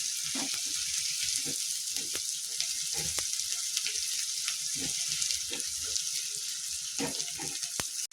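Sliced onions fry over high heat in a pan, a dense continuous sizzle with periodic scraping and stirring knocks, close and steady throughout with no voices.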